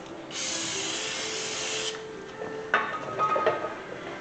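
Brake cleaner sprays onto a rotor of a 2013 Hyundai Santa Fe, a sustained aerosol hiss for about a second and a half, followed by clinks and metallic handling noises nearby.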